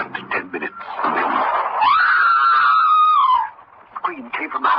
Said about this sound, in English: A scream came from the house.